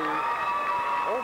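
An overflow crowd in a junior high school gym applauds cheerleaders at a 1994 Rhode Island basketball championship game, a dense roar of clapping and cheering heard under an announcer's voice.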